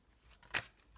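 Tarot cards being shuffled during a reading: one quiet, brief rustling burst of cards in an otherwise hushed room.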